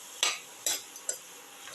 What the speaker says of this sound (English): Salt and mix the tomato pieces thoroughly.